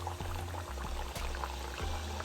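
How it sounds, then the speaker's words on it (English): Daal puri frying in hot oil, a steady bubbling sizzle with soft crackles running continuously and close, with no talking. "you throw in the daalpuri and it's sizzling"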